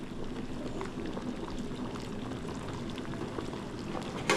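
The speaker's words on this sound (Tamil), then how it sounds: "இப்போ பாருங்கள், நல்லா தளன்னு கொதிக்க ஆரம்பிச்சிருச்சு." Sambar rice bubbles and simmers in a covered pot on the stove, a steady close-up gurgling and popping that carries on alone without any talk.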